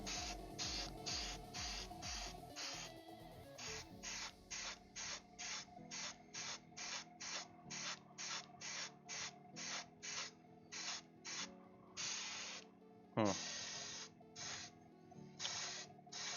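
Airbrush spraying paint onto shock absorbers for a Mustang GT 350 H scale model car, a steady hiss in short repeated bursts with brief pauses between passes, alone and close.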